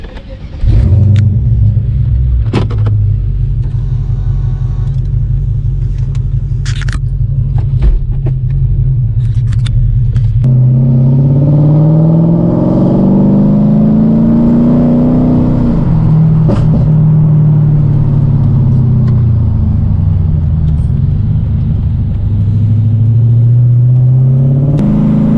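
A Mercedes-Benz fitted with a carbon fiber steering wheel starts up, then its engine hums and rises and falls steadily as the car drives off, loud and close from inside the cabin, with brief clicks early on.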